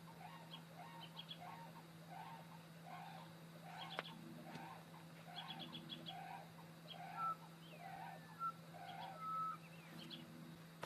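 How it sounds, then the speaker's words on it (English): Several short bird calls, chirps and a few whistled notes, sounding at intervals over a steady low hum in the Camooweal Caves area of outback Queensland, moderately faint and distant. "Strange animal noise, bird life."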